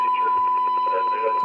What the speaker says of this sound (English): The alarm tone causes one of the radio receivers of the alarm tone feature to be turned on automatically.